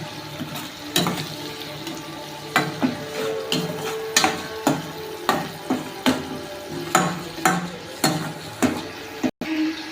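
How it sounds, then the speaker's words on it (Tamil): Tomato paste sautéing in a pan for a fish curry, with repeated stirring scrapes at a steady rhythm over a soft background sizzle, close and moderately loud, with no talking. "தக்காளி பேஸ்ட்டை ஊற்றி இப்போ நம்ம வதக்கிக்கிடலாம் நல்லா வதக்கி விட்டுலாம்"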